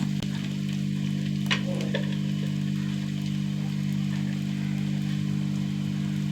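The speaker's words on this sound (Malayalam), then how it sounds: "ഉള്ളികൾ മൂത്ത് വരട്ടെ നന്നായിട്ട് ഉള്ളിയൊക്കെ മൂത്ത് വന്നു ഇനി ഈ കുറച്ചിട്ട് പൊടികൾ ഇട്ട് കൊടുക്കുക" Onions frying in oil with dry red chillies in a pan as spice powders like turmeric and chilli powder go in, a steady close sizzle with a hum running under it and a few faint clinks, no talking.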